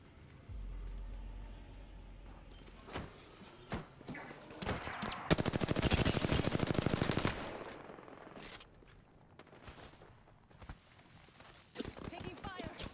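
Gunfire in the Apex Legends battle royale shooter, bursts of rapid automatic shots and scattered single cracks amid game noise, loud and close, with a dense rattling volley in the middle and a voice heard under the action.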